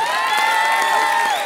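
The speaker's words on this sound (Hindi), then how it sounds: "जोरदार तालियां गांडा के लिए" Studio audience at a comedy show breaks into cheering and shouting, a dense steady wash of voices with whoops, close and loud, no speech over it.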